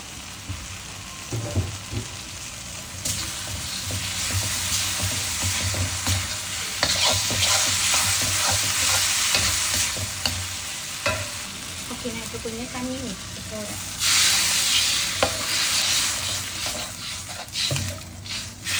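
Steady sizzling of masala frying in hot sunflower oil, with repeated scraping and stirring sounds; no voices, loud and close throughout.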